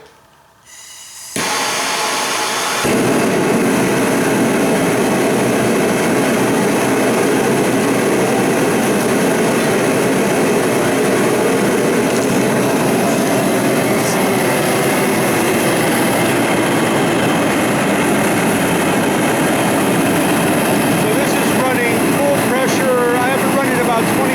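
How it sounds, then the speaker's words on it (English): A gas burner with its choke wide open roars at maximum flame, a steady, loud, broadband rush that holds unbroken for over twenty seconds after a brief quiet start as it lights. "Wide open, and the choke is wide open. So this is pretty much maximum flame."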